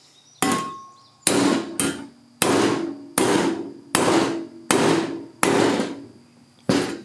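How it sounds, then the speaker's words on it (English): Two-pound hammer striking rusted, deformed metal on a John Deere 755 compact tractor, eight loud, sharp blows spaced evenly about a second apart, each ringing briefly before the next, with no talking. "2-pound hammer."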